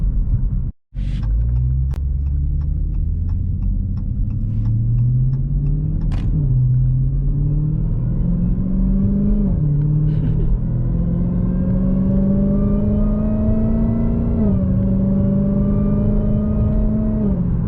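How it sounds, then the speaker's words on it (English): A car's aftermarket exhaust rumbles loudly and close while driving, a deep steady drone that rises with each gear as the engine climbs, then drops at every shift, with no talk over it. "Let me let y'all hear some of the exhaust"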